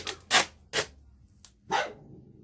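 A dog barks four times in short, close, loud bursts, the third one brief, with no other sound around them.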